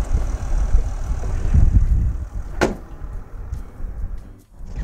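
A 178-horsepower V6 in a 2015 Thor Chateau Citation 24SR Class C motorhome idles with a low, steady rumble nearby, followed by a sharp clunk and quieter mechanical sounds as the run winds down.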